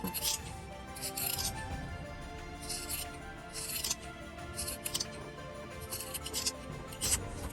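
Scissors snip through small fabric pieces for a hand-sewn folded ornament, a series of crisp clustered cuts in an irregular rhythm, close and fairly quiet, with a voice talking throughout.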